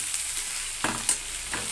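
Chicken and liver curry fries in a pan with a close, steady sizzle and a few spatula scrapes and stirring clatters.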